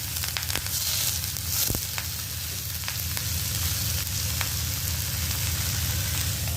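Pomfret fish sizzling steadily in a hot pan after being flipped, a loud, continuous frying hiss with a few brief clicks and taps close by, no talking.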